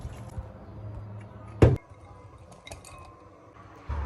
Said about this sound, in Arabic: هلأ ببلش أفقش اللوز، وبعد ما بفقشه بقسمه بالنص.